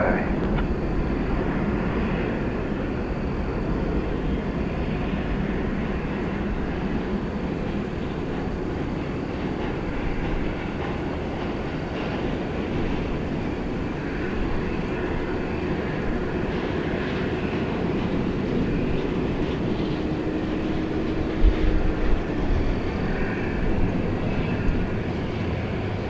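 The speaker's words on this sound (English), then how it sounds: "heavy Boeing 787, departure roll" A heavy Boeing 787 on its departure roll at Dallas/Fort Worth Airport, a loud, steady broadband jet engine roar that holds unbroken throughout, with rumbling low end and hiss, heard from a distance.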